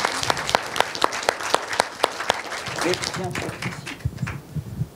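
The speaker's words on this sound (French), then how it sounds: "Voulez-vous lever peut-être, qu'on vous applaudisse ici" Audience applause at a talk with a biologist, a run of distinct, regular claps at first, then broader crowd clapping with voices murmuring over it.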